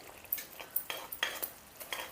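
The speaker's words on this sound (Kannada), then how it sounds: "ಒಂಚೂರು ಲೈಟಾಗಿ ಈ ರೀತಿ ಸ್ಮ್ಯಾಶ್ ಮಾಡ್ಕೊಂಬಿಟ್ರೆ ಟೊಮ್ಯಾಟೊನ ಚೆನ್ನಾಗೆ ಕಿವುಚ್ದಂಗೆ ಆಗ್ತೈತಿ" Soft cooked tomatoes being mashed in a pan for tomato rasam, a series of quiet, sharp spoon-on-pan taps and squishes in an irregular rhythm, close and faint with no talking.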